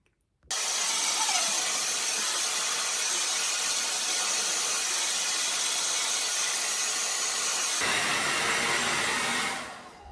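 A hair dryer blows steadily while drying hair, a loud continuous close-up whoosh that starts abruptly, shifts tone near the end as the airflow changes, then winds down.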